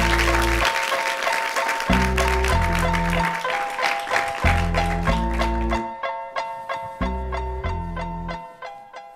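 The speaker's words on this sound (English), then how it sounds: "Please give a warm round of applause, Dr." A conference audience applauds a speaker walking onto the stage, thick clapping laid over loud walk-on music with deep bass notes and bright sustained tones, the clapping fading away partway through while the music rings on.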